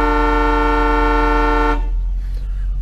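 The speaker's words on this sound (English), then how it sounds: "it's got the rim blow horn. Sounds like a locomotive coming down the road." The rim blow horn of a 1973 Lincoln Continental Mark IV sounds one loud, steady, chord-like honk close by for nearly two seconds, then cuts off and leaves a low idle rumble.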